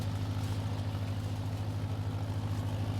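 A farm tractor engine running steadily while turning a row on a field, a close, continuous low throb with an even pulsing rhythm and no voices.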